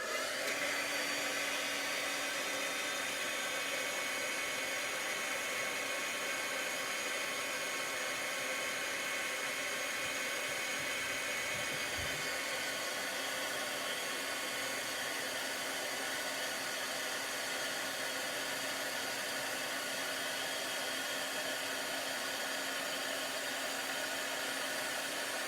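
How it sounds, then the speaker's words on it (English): A heat tool blows hot air in a continuous loud, even roar that holds steady throughout, with no talking over it. "I'm going to use the heat tool."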